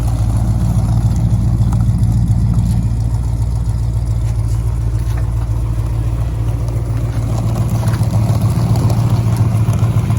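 A 1969 Dodge Charger 500 barn find running, its engine a loud, close, deep rumbling idle with a steady low throb and a slight rise in revs, continuous with no talk over it.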